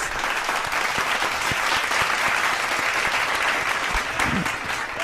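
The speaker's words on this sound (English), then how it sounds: "let's give Andrew a round of applause." A studio audience claps steadily for a guest on an SEO interview show, a dense, even round of applause that fills the moment without any talk over it.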